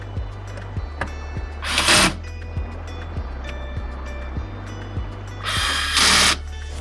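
Hand ratchet tightening the intake bolts on a 2020 Toyota Supra, a steady series of close clicking pawl strokes with two louder bursts of rapid ratcheting.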